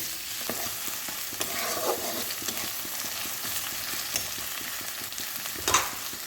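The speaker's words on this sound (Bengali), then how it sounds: "পেঁয়াজটাও বেশ ভাজা ভাজা হয়ে গেছে" Onions sizzle in a hot pan while a spoon stirs and scrapes repeatedly, close and fairly loud, with a sharper clatter near the end.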